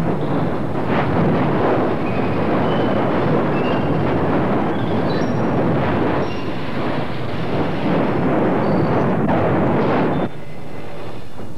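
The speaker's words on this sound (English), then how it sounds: "From time to time, explosions cause the lava to disintegrate into a dark pall" Continuous loud roaring rumble of the 1970 Hekla volcanic eruption, with dense broadband noise and bursting surges throughout, easing slightly near the end.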